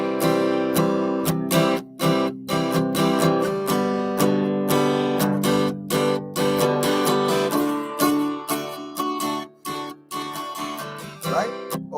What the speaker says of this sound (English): when we play a chord progression, don't we sound like this?